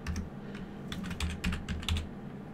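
Quick typing on a computer keyboard, with bursts of light clicking keystrokes coming in short runs and brief pauses between them, heard close up against a low background hum.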